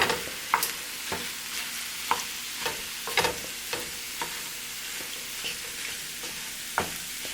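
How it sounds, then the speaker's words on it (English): Vegan tofu scramble with diced tomatoes and green chilies sizzles steadily in a pan, broken by a series of sharp spatula scrapes and stirring clicks at irregular intervals, close and fairly quiet. "just let that continue to cook. Heat up those tomatoes, and the tofu will flavor."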